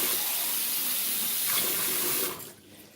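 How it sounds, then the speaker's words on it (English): Water pours steadily from a tap onto food set to soak, a loud broad rushing gush that holds for over two seconds before cutting off abruptly into quiet. "If I add water to this,"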